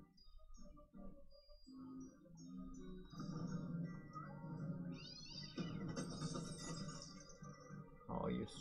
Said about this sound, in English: Oh, you stupid fucking cat.